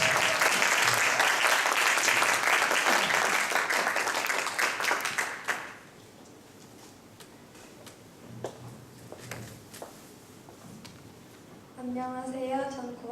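An audience at a school admissions information session applauds to welcome a ninth-grade student, a loud dense burst of clapping that stops abruptly, leaving a quiet room with small noises and then a voice.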